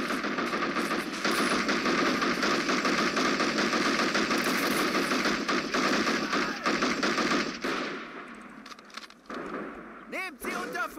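Machine guns chatter in sustained, dense bursts in the World War II strategy game Men of War Assault Squad 2, loud and continuous before thinning into scattered shots and ringing tones near the end.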